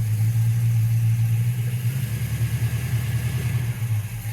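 A Ford Mustang engine running with a fluctuating, low, steady hum, loud and close, easing slightly in the second half, with no talking.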